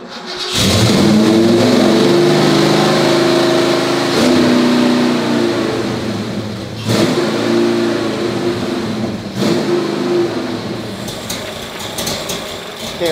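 A cammed 1966 Ford Mustang garage-find engine idles with a lopey rumble and is revved in several sharp bursts, loud and close, with brief voices in the background.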